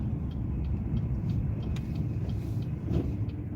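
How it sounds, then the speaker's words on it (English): An electric vehicle goes by on a one-way street in the Midwest, heard from inside a moving car as a steady, fairly loud low road rumble with no clear peak or fade. "That's an electric vehicle."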